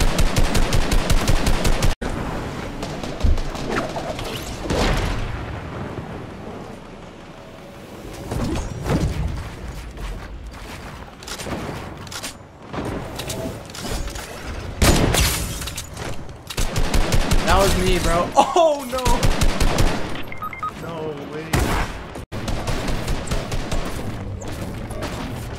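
Gunfire in a Fortnite Chapter 1 match comes in loud, sharp shots and bursts spread unevenly through the stretch, with quieter gaps and game sounds between them and some talk mixed in.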